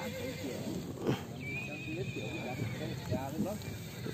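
Horses at the Trung Khanh horse market in Cao Bang, with a clear whinny rising and wavering, plus scattered hoof clops and market bustle, as people talk nearby.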